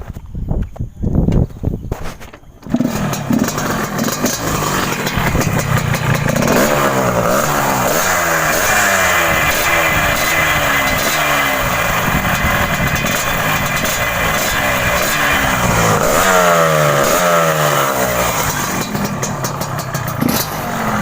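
A Yamaha RX King SE two-stroke motorcycle started up close by, catching after a few brief cranking sputters, then revving repeatedly in loud rising and falling bursts over a rattly idle.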